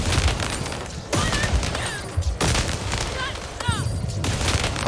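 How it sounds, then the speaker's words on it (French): Explosions and gunfire burst from the video game Lost In Random, with loud booming impacts and crackling blasts in several bursts over game music and effects, while someone talks throughout. "Ah oui, ça fait une grosse explosion en fait."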